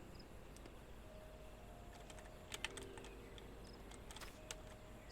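Computer keyboard typing at a home desk with fridge freezers running behind, soft scattered keystrokes tapping at moderate distance over a low steady hum, faint overall with a few sharper clicks and no speech.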